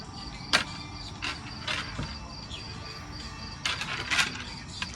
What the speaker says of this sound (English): I seen some big ass fucking crickets this year. Love that sound.